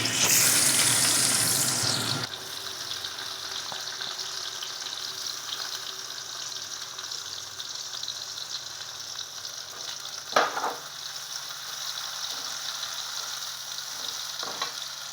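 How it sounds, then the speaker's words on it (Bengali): Steady oil sizzling and crackling as onions fry in a pan for fish curry, with a louder burst at the start and a few spoon scrapes and clinks later on. "এবারে আমি মাছের ঝোলটা শুরু করছি পেঁয়াজগুলো ভাজছি"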